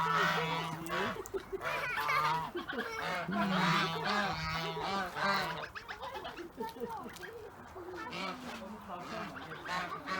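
Several geese honk and gabble loudly and repeatedly nearby at a small petting zoo in Kayseri, Turkey, with other fowl calls and a few voices mixed in.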